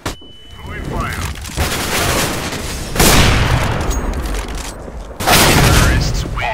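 Counter-Strike: Global Offensive match with loud, close grenade explosions and bursts of gunfire, one big blast around the three-second mark and another near the end, over continuous rumbling battle noise, with in-game voices.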